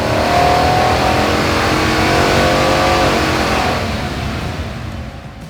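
A Chevrolet Silverado 1500 LTZ V8 revs hard on a chassis dyno, a loud sustained engine roar climbing steadily in pitch before easing off near the end, with no talk over it.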